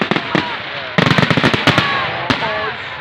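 Bonfire night fireworks finale at Booths Hall in 2016 crackle and pop in rapid clustered bursts, loud and close, with people talking and shouting over the barrage.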